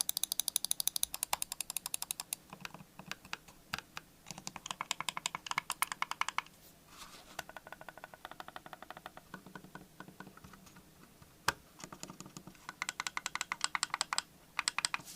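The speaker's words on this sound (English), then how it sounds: "here's a quick click test" Logitech MX Anywhere 3 and MX Anywhere 3S mouse buttons click in quick, sharp bursts, some runs fast and dense and others spaced out, close and alone in a quiet room.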